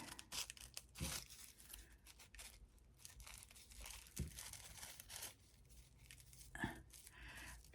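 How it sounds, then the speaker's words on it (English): Scissors cut through folded tissue paper while making papel picado flags, giving quiet, close crisp snips and crinkly tearing rustles in an irregular run, with a few sharper cuts standing out and no talking. "Now I'm going to cut from the other side."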